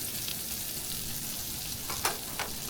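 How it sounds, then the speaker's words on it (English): Steak sizzling on a hot plate, a steady close crackling fry throughout with a few brief louder hisses toward the end. "I decided to cook the steak. And I thought I'd see how the hot plate went"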